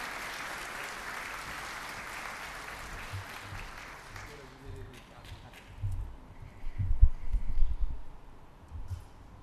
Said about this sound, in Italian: vogliamo accoglierlo con un applauso